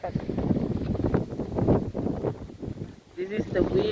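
Strong, gusting east wind sweeps across a bay, buffeting and rumbling steadily against the microphone, while a voice talks over it throughout.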